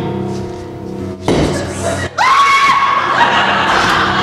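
A person screams at an airport during a struggle with people trying to catch him; after muffled commotion and a brief drop-out, a loud, sustained, high-pitched scream holds to the end.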